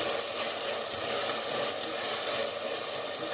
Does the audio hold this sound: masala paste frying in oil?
yes